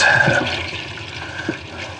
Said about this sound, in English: we're going to turn the hot water on